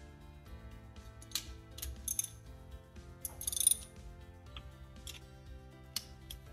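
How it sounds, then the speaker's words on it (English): Fill plug being threaded and tightened on a BOGE air compressor after an oil top-off, a series of close, faint metallic clicks and ratcheting ticks over a low steady machine hum, with a brief louder cluster of clinks midway. "Install the fill plug."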